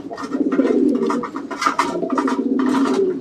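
Two fancy pigeons coo repeatedly at a backyard pigeon and poultry farm, their soft throaty calls overlapping in a steady, close rhythm with no talking.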